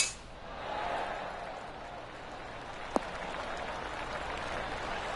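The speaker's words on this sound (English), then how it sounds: "Oh, golf clap." Soft, scattered golf clap from a small crowd in a golf video game, fading in at the start and holding steady and quiet, with one sharp click partway through.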